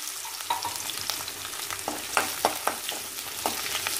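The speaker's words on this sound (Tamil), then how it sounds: "வெங்காயம் கொஞ்சம் நல்லா வதங்கட்டும்" Onions sautéing in a pan with fenugreek, curry leaves and urad dal, a close sizzle broken by repeated sharp scraping strokes of a spoon through the mix.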